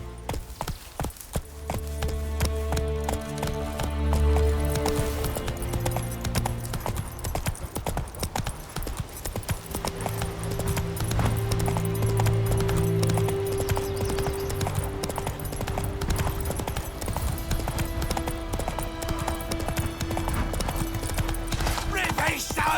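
Roach the horse gallops in The Witcher 3, a steady rapid clip-clop of hooves running close over continuous game music, with talk over parts of it.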